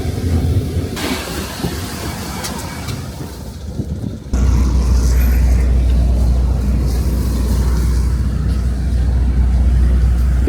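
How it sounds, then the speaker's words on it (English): A city bus on a quiet Moscow street at night rumbles close by, its deep engine noise rising abruptly partway through and holding steady and loud to the end over faint street ambience. "And that's the bus."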